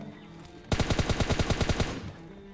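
Gunfire in PUBG Lite, a sudden loud automatic burst of about a dozen evenly spaced shots fired close up in quick rhythm, lasting just over a second before cutting off, with no talking over it.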